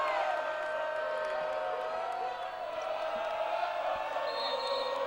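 A crowd at a basketball game tip-off gives a sustained, moderate cheer and murmur with scattered whoops that stays fairly even from start to finish.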